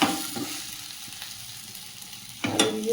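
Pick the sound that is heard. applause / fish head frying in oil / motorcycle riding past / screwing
fish head frying in oil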